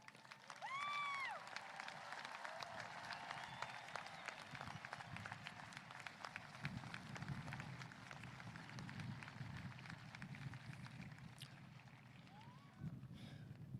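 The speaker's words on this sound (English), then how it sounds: "would you please stand and accept this round of applause?" A high school graduation audience applauds at a commencement ceremony, with faint, scattered clapping that carries on throughout and a few whistles near the start.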